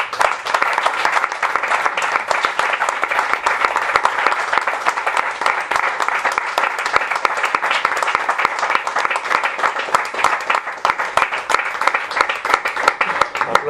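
Steady, dense applause from an indoor audience after a poetry reading at a book presentation in Madrid, many hands clapping continuously at even loudness for the whole stretch.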